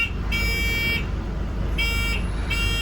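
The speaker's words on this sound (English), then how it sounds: "next stop cord still works" The next-stop cord buzzer on a 1989 Volvo B10M bus sounds in two electronic beeps, each split into short back-to-back pulses, over a steady low engine hum.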